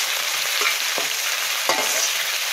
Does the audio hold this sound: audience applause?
no